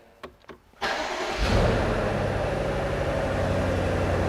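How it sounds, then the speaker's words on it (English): A 2022 BMW M850i Cabriolet's V8 cranks briefly, then bursts into life with a loud roar and settles into a steady, deep idle heard from close by. "that V8 just bursts into life"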